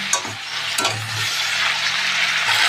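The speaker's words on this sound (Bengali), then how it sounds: "আলু দিয়ে দিয়েছি, হলুদ দিয়ে দেবো, নুন দিয়ে দেবো, নুন হলুদ দিয়ে দিয়েছি, ভালো করে ভেজে নেবো।" Potatoes fry in a pan with turmeric and salt for a rohu fish curry, making a loud, close, steady sizzle, with a few clattering stirs near the start and low hum underneath.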